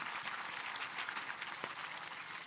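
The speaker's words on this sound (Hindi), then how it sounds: "ताली बजाए बच्चों के लिए" Steady, moderately soft applause for children from an audience of students at a spiritual talk in Biratnagar, Nepal, many hands clapping evenly for a couple of seconds with no voices over it.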